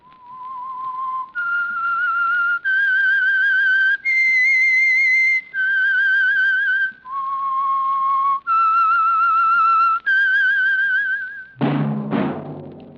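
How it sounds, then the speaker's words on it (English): A whistled theme tune for a radio program, a clear melodic sequence of about nine sustained notes that shift in pitch with a light vibrato, played alone and ending with a brief burst of noise. "That whistle is your signal for the Signal Oil Program, The Whistler."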